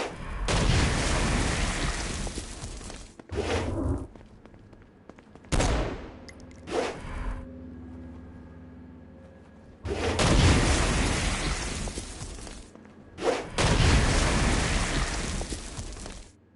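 Stone Blast explosions and bursts of gunfire in the video game Saints Row: Gat Out of Hell, loud sustained volleys broken by short sharp booms and brief quiet gaps.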